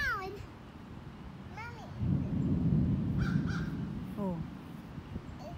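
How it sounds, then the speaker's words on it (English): A crow caws in a forest, several short harsh calls spaced apart and heard from a moderate distance, while a child and an adult talk nearby. "We got a crow down there in a forest"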